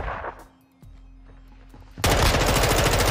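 Gunfire in Modern Warfare 2 shooter game: a few faint shots and quiet game ambience, then a loud, close burst of rapid automatic fire taking over the last second.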